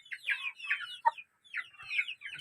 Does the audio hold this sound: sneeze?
no